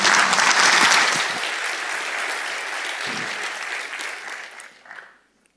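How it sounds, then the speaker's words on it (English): A conference audience applauds a speaker before a Docker overlay networks talk, loud dense clapping at first that thins and tapers over several seconds before fading out. "a round of applause for Laurent."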